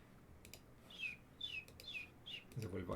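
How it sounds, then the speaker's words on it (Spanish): A small bird gives four short, high chirps spaced about half a second apart. They sound faint and somewhat distant over a low background rumble, and a brief burst of other noise comes near the end. "Ese fue el pájaro por si acaso"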